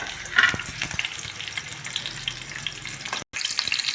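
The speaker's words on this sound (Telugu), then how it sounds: "ఆనియన్స్, చిల్లీ ఈ రెండు వేసుకొని కొంచెం ఫ్రై చేసుకోవాలండి" Onions and green chillies crackle and sizzle in hot oil for a capsicum mirchi rice, a steady close frying hiss with a few sharper spatters and a short dropout near the end.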